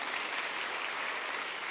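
Church congregation applauding during a sermon, a steady, dense wash of clapping from many people that holds at even loudness throughout the short stretch.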